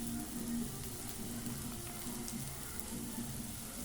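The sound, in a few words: bread masala mixture frying in a kadai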